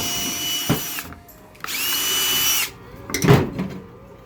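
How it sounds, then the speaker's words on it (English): A power drill bores a hole through porcelain tile to make a zip-tie hole: a short buzz, then a sustained high whine of about a second, followed by a lower grinding rumble, all close and loud. "Basically what we're doing here is we're drilling holes for somewhere that zip tie can go through here."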